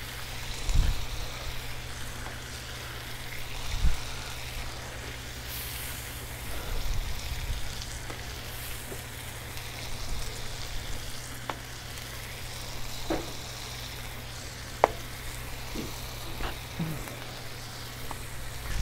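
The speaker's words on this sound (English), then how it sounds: "Gonna just kind of hang out for a second while this bacon cooks." Bacon fries on a Blackstone griddle with a continuous close sizzle and crackle, broken by occasional soft knocks and pops throughout.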